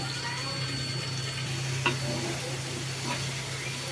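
Potato pieces fry in oil for beef tehari, a soft steady sizzle with occasional stirring clinks, fairly quiet and close.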